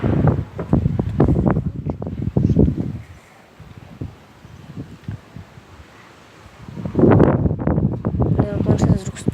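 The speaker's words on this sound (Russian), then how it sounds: "Такой ураган." Strong stormy wind gusts outdoors in Kulenovka, roaring as broadband noise that buffets the microphone, loud at the start and end and easing in the middle, with someone speaking over it.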